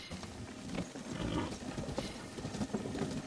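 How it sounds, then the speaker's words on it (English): Wild horses gallop in the video game Tears of the Kingdom, a faint, continuous patter of hoofbeats blended into the soft game ambience. "Now those are wild horses."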